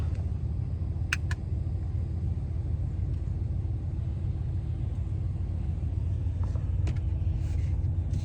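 A car pulls away after the garage is closed, its engine a steady, low rumble that holds evenly throughout with a few faint clicks and knocks and no talking.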